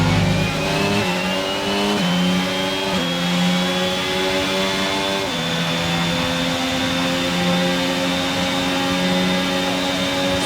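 A Formula 1 car engine in the F1 22 racing game at the Emilia Romagna Grand Prix, a loud high-pitched whine climbing through the gears in several stepped upshifts.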